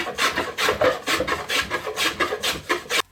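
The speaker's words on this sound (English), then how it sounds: "That hand planing did a really great job." Hand plane shaving the nose of a wooden pizza peel, about a dozen rhythmic rasping strokes in quick succession, close and fairly loud, ending abruptly.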